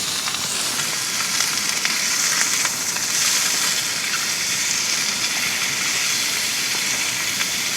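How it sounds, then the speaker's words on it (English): Sausages sizzle and spit steadily in a pan on a camping stove during cold, damp wild camping by a Northumberland river, a dense continuous frying hiss with no voices. "And let's get these sausages and everything cooked."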